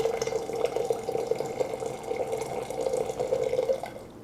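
Water pours steadily from a Tiger electric water boiler's dispenser into a container, a continuous close trickling stream with a slight dripping texture, lasting the whole stretch with no talking.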